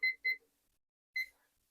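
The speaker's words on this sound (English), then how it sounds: "I'm going to set my timer for 12 minutes." A kitchen timer gives two quick close beeps as it is set for a 12-minute simmer, then a single beep a moment later, clear and bright against an otherwise quiet stovetop setting.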